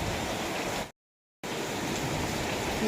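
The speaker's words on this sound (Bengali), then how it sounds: "জোরে বৃষ্টি হচ্ছে" Steady, dense hiss of heavy rain pouring down, broken by a brief moment of total silence before the downpour resumes.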